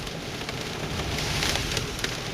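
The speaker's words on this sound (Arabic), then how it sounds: "ايوه برد، ايوه برد." Hail and rain patter densely during a thunderstorm on a road, a continuous hissing rattle of many small impacts with a few louder pings, heard steadily at moderate volume.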